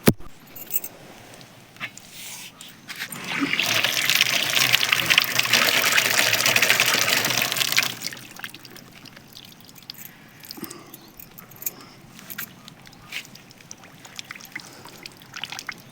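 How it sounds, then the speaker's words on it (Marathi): Water gushes loudly from a farm tap into a pipe for watering cows, a steady broadband rush lasting several seconds before cutting back to faint trickling and small clinks. "हा क्वाक चालू केला आता पाणी इकडे येते"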